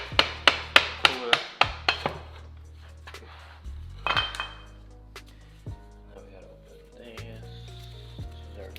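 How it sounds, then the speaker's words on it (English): Small steel ball bearings dropping out of a part on a Honda CB650 cafe racer motorcycle, a quick run of about eight sharp metallic clinks and rattles in a row, then scattered taps with voices talking nearby. "You gotta be careful because a bunch of ball bearings are gonna fall out"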